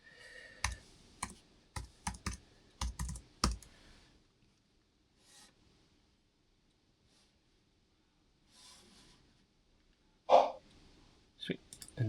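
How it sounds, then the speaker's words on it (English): Fingers tap out a quick burst of clicks on a computer keyboard, crisp and close, then quiet settles in before a few more scattered clicks at the end. "Always seems to take a while for my keyboard to connect after a restart for some reason."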